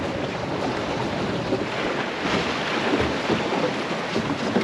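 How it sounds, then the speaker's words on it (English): A tugboat approaches and overtakes a small Welsford Navigator sailing dinghy, its low steady engine rumble blending with wind buffeting the microphone and water noise, constant and moderately loud with no talking. "Got a tug coming in towards us, and I'm just being overtaken"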